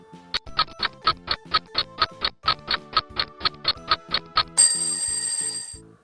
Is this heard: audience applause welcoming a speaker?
no